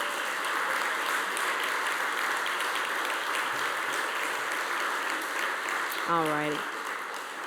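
An audience at an awards celebration gives a round of applause, sustained even clapping throughout, with a brief voice rising over it near the end.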